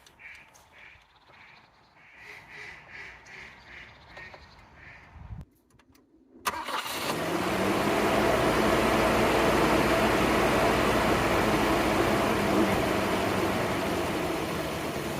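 A Volvo 740 engine fitted with a Weber carburetor, its jets drilled out for E85, cranks and catches, then settles into a loud, steady run after a quiet stretch with faint bird calls.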